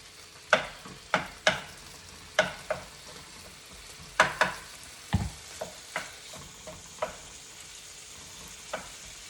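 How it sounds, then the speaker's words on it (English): Strips of steak for lomo saltado fry in a pan under a low sizzle, punctuated by a dozen or so sharp scraping and knocking strokes of a spatula stirring and separating the meat at an irregular pace. "just a few minutes until the steak gets a little brown"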